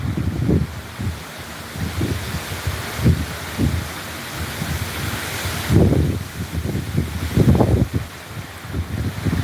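Strong gusts from Hurricane Milton near Port St. Lucie, Florida, roaring in surging waves against the microphone with rushing rain-like noise, loud and continuous with swelling peaks and no talk.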